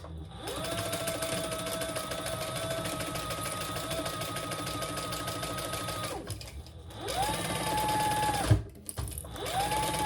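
Close and loud, a sewing machine top-stitches a clutch crossbody bag in a long steady whirring run, then stops and restarts in two shorter bursts near the end, with a faint bump between them.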